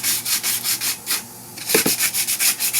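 Fiberglass gas tank halves are hand-sanded to rough up the surface, a quick rhythmic back-and-forth rasping with one brief pause, close and steady.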